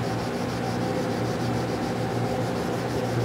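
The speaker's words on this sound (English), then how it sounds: "I'm using 400 and I'm just going to give it a light sand" Sandpaper of 400 grit rubs lightly by hand over car paint, a continuous close, even scratchy hiss with no pauses and no talk.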